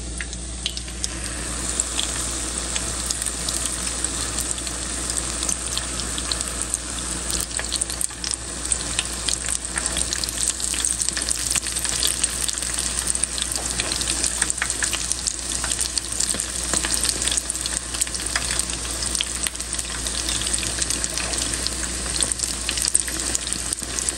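Pakoras for karhi fry in hot oil, a steady, soft sizzle that carries on evenly throughout, with no talking over it.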